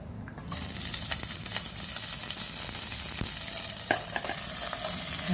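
Cabbage pieces dropped into hot oil for an Andhra-style cabbage chutney, setting off a sudden loud, dense sizzle that holds steadily, with occasional spoon scrapes and taps as it is stirred.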